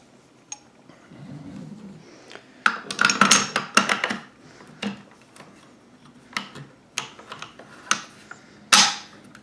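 A Soviet SKS-45 rifle is put back together, with scattered metallic clicks, clacks and sliding parts in irregular bursts, close and fairly quiet, with a soft rustle early on and no talking.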